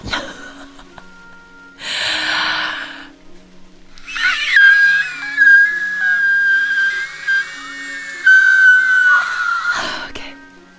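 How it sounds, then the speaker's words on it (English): A shrill, drawn-out scream comes in two bursts: a short breathy shriek, then a long, loud, whistling wail that wavers in pitch before breaking off with a gasp. "it's the Himejoshi scream"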